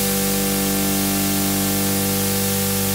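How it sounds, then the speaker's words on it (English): A Studiologic Sledge synthesizer plays steady white noise at a fixed level, a constant loud hiss with some faint tonal hum beneath, alone and unbroken for the whole stretch. "we're going to use white noise at a volume level of 88"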